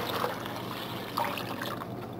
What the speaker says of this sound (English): We're going to pour it up with some water.